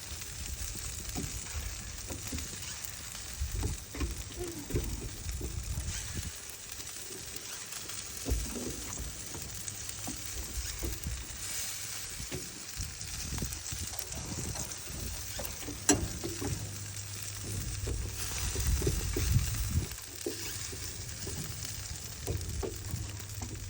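Pork barbecue on bamboo skewers sizzling over a low fire, a soft continuous crackle and hiss with occasional louder pops and faint handling noises throughout.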